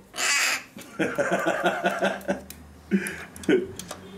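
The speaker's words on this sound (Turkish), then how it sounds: "Burun kıllı leş kargası." A young carrion crow gives a run of harsh, close caws in irregular bursts, with faint human chuckling mixed in between calls.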